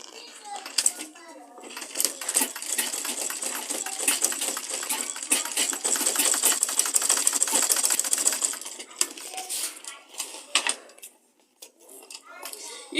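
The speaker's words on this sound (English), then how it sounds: "Then you sew. You sew it like this straight." Sewing machine stitching a leather tote bag, a fast rattling run of needle strokes lasting several seconds that slows and stops, with a voice talking over parts of it.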